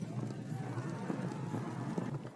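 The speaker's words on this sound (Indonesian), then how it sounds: "Tiba-tiba mereka mendengar derap kaki kuda." Horse hooves clatter in a quick, steady galloping rhythm, moderately close, with soft background noise and a brief whinny-like sound underneath.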